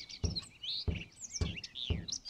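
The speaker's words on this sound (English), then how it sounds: "Listen to the bird chirping." Birds chirp and tweet outdoors in a horror video game, a series of bright, quick warbling calls close by over a quiet background, broken up by several soft low thumps like footsteps.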